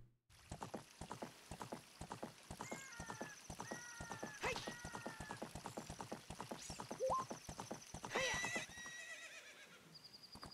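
Horse in The Legend of Zelda: Ocarina of Time (randomizer run) gallops with a fast, steady clip-clop of hooves and neighs loudly partway through, with bright game chimes and effects layered over the close, continuous hoofbeats.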